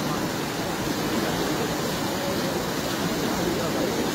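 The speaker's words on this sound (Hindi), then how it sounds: "सामने वो पानी निकल रहा है बाहर देख" Water from a flooded paddy field rushes out in a steady, loud, broadband roar that stays even from start to finish, with no break or clear voice.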